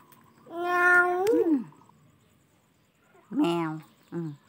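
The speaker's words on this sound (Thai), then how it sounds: "แมวแมวแมวไปไหนลูกแมวเข้าป่าไปแล้ว" A cat meows outdoors during an evening walk: one long drawn-out meow, then after a pause two shorter meows close together, fairly close and clear against quiet surroundings.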